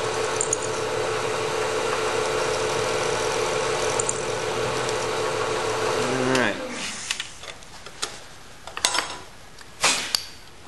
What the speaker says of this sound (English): I'm going to take an end mill and cut a little notch in here.